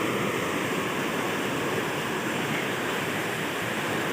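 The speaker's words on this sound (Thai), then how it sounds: "มวลน้ำนะครับผม ลงมาตรงฝายนะครับ" Heavy rushing water pours over a village weir swollen after a night of rain, a loud, steady, broadband roar that holds unbroken and close throughout with no voices.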